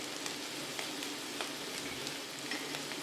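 Onion, green chilli and curry leaves fry in oil for vermicelli kichadi, giving a steady close crackle and sizzle with scattered sharp pops throughout, no voices.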